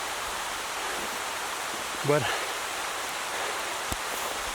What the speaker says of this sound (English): It's raining pretty bad right now.